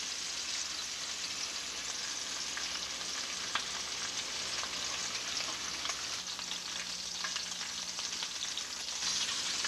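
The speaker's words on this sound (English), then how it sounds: "we don't want to cook the rabbit, we just want to brown it. And put about 4 pieces in the skillet at a time" Rabbit pieces browning in a skillet, about four at a time, give a steady, dense frying sizzle that holds evenly throughout with no talking.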